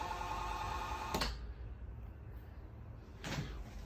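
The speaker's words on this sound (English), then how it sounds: "When you go to close these doors," Two doors on a Cyclone 4006 toy hauler RV bang shut one after another, a sharp close at about one second and a second, softer one near the end, with faint background hum and no talking.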